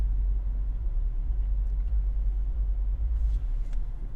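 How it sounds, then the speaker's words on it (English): Congested road traffic in Daytona Beach, Florida, heard as a steady low rumble of car engines and tires, continuous and fairly close, with no voices over it. "Somewhat of a traffic congestion here."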